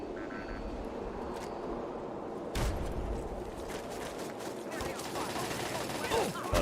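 Turrets fire in a Fallout video game, a sustained stream of rapid gunshots running under light talk, growing denser and louder toward the end.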